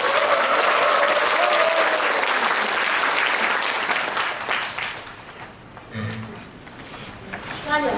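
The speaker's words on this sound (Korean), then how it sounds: "우리 다음 토론해 주실 김선희의 요양보호사님께 우리 큰 박수 한번 부탁드립니다." Loud, dense applause from the audience at a Gyeonggi provincial council policy forum on working conditions for long-term care workers. It rings steadily for about five seconds, then thins out and fades as a voice begins.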